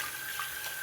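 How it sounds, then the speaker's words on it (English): Warm water runs steadily from a tap to wet the face before shaving, a soft, even hiss that stays fairly quiet and alone for under a second. "Let me wet the face, warm water."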